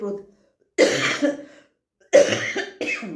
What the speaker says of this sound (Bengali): দেখতে পাচ্ছ কাশি হচ্ছে